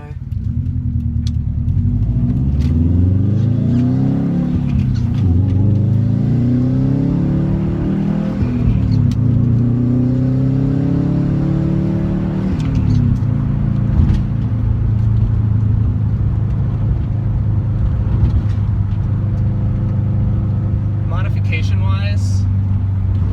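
A Subaru STI with a manual transmission and a muffler delete accelerates through the gears, its engine note repeatedly rising in pitch and dropping at each shift. Someone talks over the loud cabin drone.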